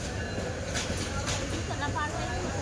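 A passenger train on the Chattogram–Dhaka route rumbles past at close range, a steady heavy roll of wheels and carriages with faint voices mixed into the noise.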